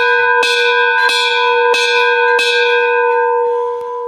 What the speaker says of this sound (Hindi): छोटे छोटे घंटे लगे हैं। अब मैं इनको बजाते ही आगे बढ़ने वाला हूँ